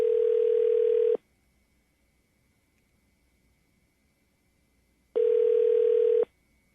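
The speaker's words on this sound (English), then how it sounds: "We're dialing right now." Telephone dial tone heard while dialing a call, a steady pure tone sounding for about a second, a long silence, then the same tone again.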